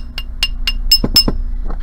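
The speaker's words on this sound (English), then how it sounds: "I'm just going to take my hammer and gently kind of tap that back into a normal" Small metal hammer tapping a beaded wire ring back into a round shape, a series of about seven light, bright clinking taps with a slightly irregular rhythm, close and distinct with no talk.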